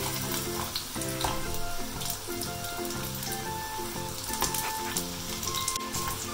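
Baby corn fritters deep-fry in hot oil with a steady, close, crackling sizzle and bubbling that continues without a break, with soft tonal sounds in the background.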